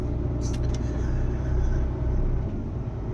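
A loaded truck rolls along a road in light snow, giving a steady low engine and tyre rumble throughout with a couple of faint high ticks near the start; no voices.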